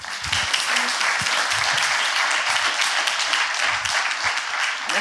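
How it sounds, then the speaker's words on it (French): Sustained applause from an audience at an urban-planning award event, dense steady clapping filling the room from start to finish with no pauses, loud and even throughout. "je vous demande de lui accorder un tonnerre d'applaudissements"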